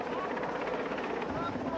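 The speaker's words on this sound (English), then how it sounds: "The downwash on the helicopter sometimes can cause problems with falling rocks, a lot of dirt being blown around." Helicopter hovering during a mountain rescue, a loud steady rotor roar with throbbing blade chop and engine whine, close and continuous, its downwash blowing dirt around.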